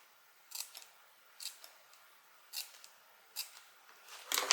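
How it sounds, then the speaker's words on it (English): Scissors make about five short, crisp snips into the fabric corners of a sling bag, evenly spaced and close, alone against a quiet background. "I'm going to make little snips in these this main part of the bag."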